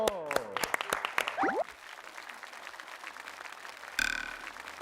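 Audience applause greets a guest, the music director of the Shanghai Gufan Symphony Orchestra, at a New Year concert. Dense, steady clapping follows a burst of tonal sounds and runs for a few seconds, with a brief loud swell near the end.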